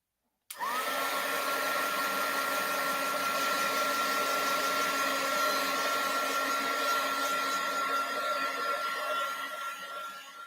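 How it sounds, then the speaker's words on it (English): A heat gun blows a steady, loud whooshing roar while drying paint. It starts abruptly after a brief silence and runs continuously, easing off slightly at the end, with no talk. "I'm going to actually use my heat gun just for a second to kind of dry that a little quicker."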